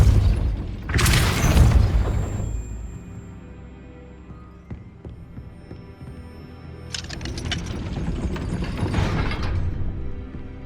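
Depulso spell cast in Hogwarts Legacy to raise a gate: a heavy booming blast followed by mechanical grinding and ratcheting as the gate moves, then a second rumbling surge of machinery, loud and close with no talking.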